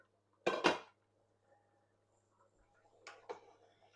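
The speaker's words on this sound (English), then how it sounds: "Give it a good stir." A spoon stirs cabbage soup in a pot, with two quick clanking scrapes against the metal near the start and two softer knocks toward the end, otherwise quiet.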